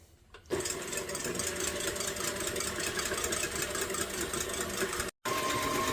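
An electric mixer runs continuously, beating egg whites with cream of tartar until frothy, a loud steady motor whir that starts after a brief quiet moment and cuts out for an instant near the end.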